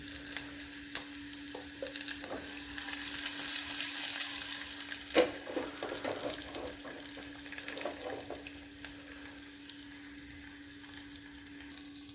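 Cashews and raisins fry with coconut pieces in a pan for ada pradhaman, a soft continuous sizzle broken by several clinks and scrapes of stirring, heard close and quiet with no one talking.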